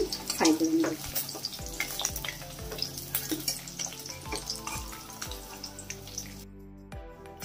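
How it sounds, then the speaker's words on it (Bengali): Katla fish pieces frying in hot oil for a Bengali doi katla, a busy crackling sizzle with scattered pops and utensil clinks, fairly close and steady before fading out near the end. "মাছ আমি এইভাবেই ফ্রাই করে নেব।"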